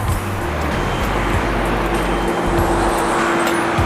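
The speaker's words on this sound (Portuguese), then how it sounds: "Um carro aqui." A car passing on a road beside a park, a broad steady rush of tire and engine noise close by, mixed with a continuous low hum of traffic and no talk.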